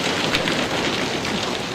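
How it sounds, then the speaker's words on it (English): Heavy rain pours down during a storm, a dense, loud, unbroken hiss with no pauses or voices. "It began to pour down rain."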